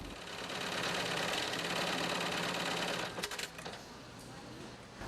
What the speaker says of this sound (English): Workers use heavy-duty sewing machines to stitch Velcro and other materials to the BCD.